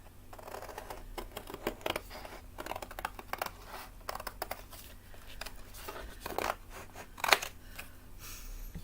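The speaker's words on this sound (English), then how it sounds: "So let's grab my big scissors." Big scissors snipping through gold and silver adhesive-backed glimmer paper, a run of quick, close crisp cuts and crinkles with a sharper snip near the end, over a faint steady room hum.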